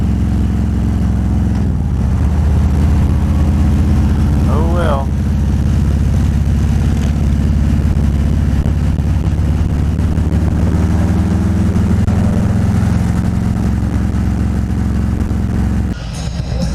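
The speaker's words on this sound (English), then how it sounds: "We're in another bout of traffic." A car creeps through stop-and-go traffic on the road to Key West, its engine drone and road rumble low and constant throughout, with a brief spoken remark partway in.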